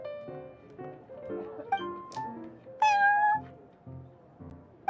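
A cat in the Genshin Impact video game meows repeatedly, a string of short chirpy mews followed by a louder drawn-out meow, close and clear with soft game music beneath.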